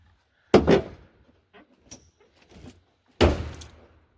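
A car door is slammed shut twice during car camping, two loud close thuds with a few faint small knocks in between.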